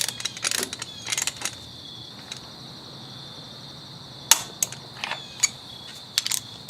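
An installation tool is tightened another 5 newton meters, giving clustered mechanical clicks and ratcheting bursts at close range, separated by pauses, over a steady high-pitched background whine.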